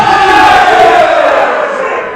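A snooker crowd at a players-lounge shootout event in Atherton, with cheering and shouting swelling loudly and then easing off slightly toward the end.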